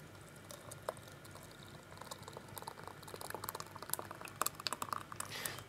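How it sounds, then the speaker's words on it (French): Soup mixture is poured into a hollowed red kuri squash, giving a soft continuous liquid trickle with faint splashes and small clicks that build slightly toward the end. "on va verser notre préparation dans le potimarron"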